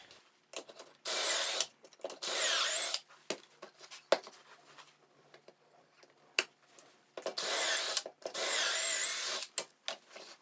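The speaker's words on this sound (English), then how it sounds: "you're going to drill 2 holes into each leg" A power drill whirs as it drills pocket holes into 2x3 wooden desk legs, in two long bursts separated by clicks and handling noises, close by and loud.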